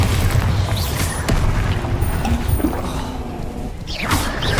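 Bombarda blasting spell in Hogwarts Legacy, a dense sustained rumbling blast with crackling debris and muffled booms throughout, loud and close, no voice heard.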